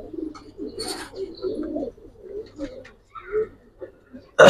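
Pigeons at a farm selling Giribaz and coloured pigeons, several soft low coos repeating near the mic with a few chirps, and a voice briefly heard among them.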